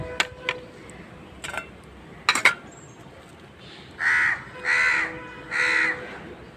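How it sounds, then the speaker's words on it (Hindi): Crows caw for scattered food at a doorway and rooftop: three loud, drawn-out caws in a steady sequence close by, after a few sharp clicks and rustles. "देखिए कौआ बोल रहा है खाने के लिए।"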